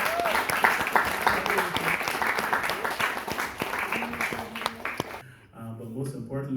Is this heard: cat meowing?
no